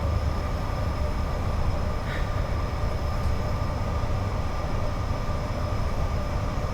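A Class 86 electric locomotive runs at speed on the West Coast Main Line between Preston and Carlisle in the Just Trains simulator, giving a loud, continuous, even rumble of wheels and motor.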